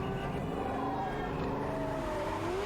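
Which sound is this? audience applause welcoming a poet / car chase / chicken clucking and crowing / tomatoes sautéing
car chase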